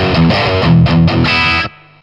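An electric guitar played through a Blackstar Debut 50R amp on a scooped, high-gain distorted setting: loud chugging chords in short bursts, then a sustained chord cut off abruptly.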